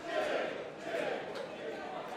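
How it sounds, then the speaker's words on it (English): A wrestling crowd at an indoor hardcore match roars and cheers in surging swells, a moderately loud mass of voices rising and falling over two seconds with no clear single speaker. "And listen to this crowd."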